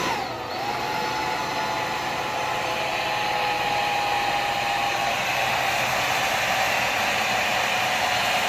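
Small FPV drone prototype with its motors held at low throttle, giving a steady high whine with a faint rising tone, continuous and close for the whole stretch with no talking.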